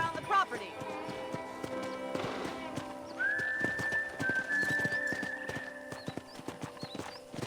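Steady clip-clop of horse hooves in the video game Red Dead Redemption, with a brief whinny and a sustained whistle-like tone over the footfalls. A voice talks over the hoofbeats.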